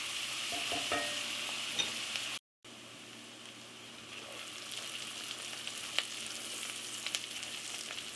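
Bacon and onion frying in undrained bacon fat, a steady close-up sizzle with occasional stirring scrapes and small pops, interrupted by a brief cut near the middle.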